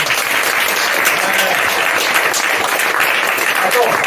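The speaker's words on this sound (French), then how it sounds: "Accueillez très fort, applaudissez très fort, Edmond." Audience at a stand-up comedy show applauding loudly as a guest is welcomed onstage, a dense, steady wash of clapping that stays close and strong from start to finish.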